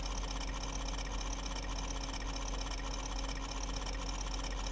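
A 2015 Lexus engine idles with a quiet, even hum and a faint steady whine, unchanging throughout with no voices.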